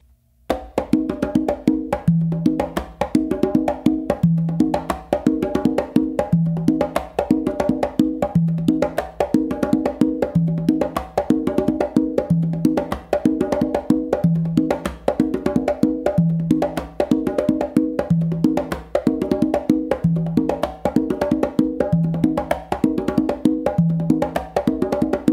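Conga drum played in a steady repeating tumbao, with open tones and slaps cycling evenly and loudly for the whole stretch, no voices.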